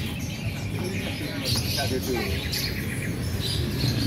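Busy outdoor bird chatter with pigeon chirps and calls layered over a crowded market murmur and nearby voices at the Tunggorono pigeon market, Jombang.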